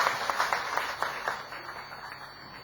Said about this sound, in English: let's have a big round of applause for Kalpana